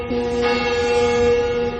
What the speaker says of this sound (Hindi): ब्रिज खुलने का सायरन बजा